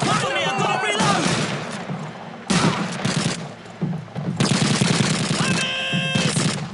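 Rapid machine-gun bursts and rifle fire in Call of Duty 2 during the battle for Caen, loud and close, coming in clusters with short gaps and shouting voices mixed in.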